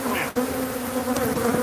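Agitated bees buzz loudly and steadily close by, a dense continuous drone with no voices over it.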